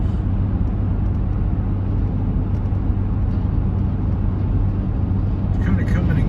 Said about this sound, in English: I'm hearing a little bit of a humming noise.